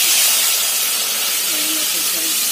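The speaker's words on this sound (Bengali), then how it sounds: "ভাজা হওয়ার পর এবার এই জলটা দিয়ে দিচ্ছি।" Water hitting a hot pan of fried taro and potato for an eel fish curry gives a steady, loud hiss of steam and sizzle that stays constant for the whole moment, with faint low tones underneath.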